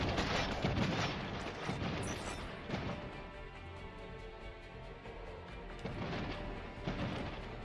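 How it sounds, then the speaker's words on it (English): Gunfire and heavy explosive booms in a Cepheus Protocol battle, faint and distant, with scattered irregular bursts over a rumbling background. "Everyone is shooting."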